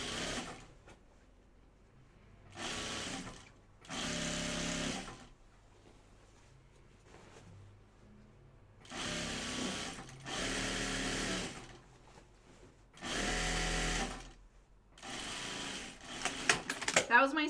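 A sewing machine stitches a 5/8 inch waistband seam on pajama bottoms in several separate bursts of rapid whirring, each lasting a second or two, with quiet pauses in between and soft talk in the gaps.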